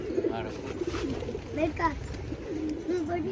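Soft, repeated coos of a sick pigeon roll along in a steady rhythm, close by, with a faint voice murmuring underneath.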